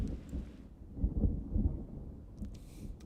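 A thunderstorm in the video game Jurassic World Evolution 2: low, rolling thunder rumbles build and swell through the middle, with a hiss of rain in the background and no voices.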